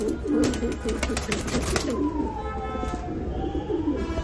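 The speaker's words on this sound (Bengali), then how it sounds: "খুব ভালো সাইজের কবুতর" A Baghdadi pigeon coos softly several times at close range in a quiet space, with a few light clicks and rustles at the start.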